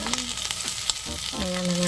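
Carrots and potatoes frying in a pan for arroz valenciana, giving a steady close sizzle with a few soft stirring knocks; a sustained tonal hum rises in the second half, and no one speaks.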